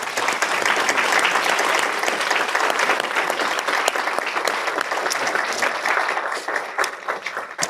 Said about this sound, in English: let's give these men a round of applause